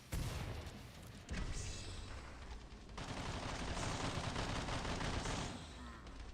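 Continuous weapon fire in the video game Killing Floor 2, a dense wall of rapid shots and booms with brief shifts in intensity, loud and unbroken throughout, with no clear talking.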